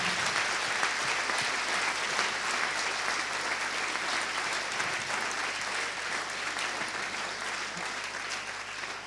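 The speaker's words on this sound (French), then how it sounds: "Je vous propose d'applaudir très chaleureusement nos invités" Warm, sustained applause from an audience at a cultural foundation evening event, honoring invited guests; thick, even clapping continues throughout, fairly close and slowly tapering toward the end.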